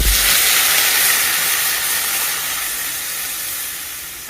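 Water poured into a hot pan of fried-down egg curry sets off a loud, steady hiss of steam that fades slightly over several seconds, with no voices.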